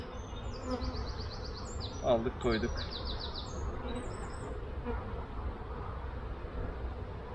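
A dense, continuous hum of many honey bees and drones on a hive frame buzzes close by, with a brief spoken remark partway through and some high chirps above.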